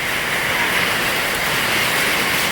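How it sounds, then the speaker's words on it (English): Heavy rain mixed with hail pounds down in a steady, dense roar outdoors, loud and continuous with no pauses or voices. "It's raining so hard."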